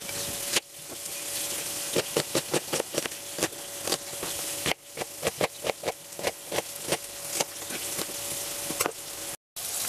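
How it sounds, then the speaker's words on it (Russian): Fish frying in a pan with onions nearby, a steady loud sizzle running throughout with a series of sharp, evenly spaced knife chops on a cutting board cutting through it. "пока у нас тут обжаривается рыбка"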